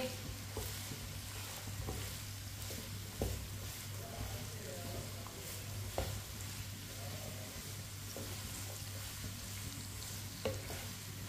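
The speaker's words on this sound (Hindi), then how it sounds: "ऑयल को मैंने गर्म कर लिया। कटा हुआ कद्दू डाल लेंगे। मिक्स कर लेंगे।" Chopped bottle gourd (lauki) frying in hot oil in a pan, giving a steady close sizzle throughout, broken by occasional scrapes and taps of a stirring spoon.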